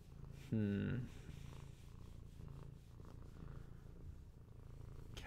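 A cat purrs close by in a low, continuous rumble that runs the whole time, while a person's voice briefly speaks over it near the start.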